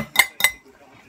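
A fork works burger mince in a bowl with two quick scraping clinks close by, then quiet; ingredients going in include onion.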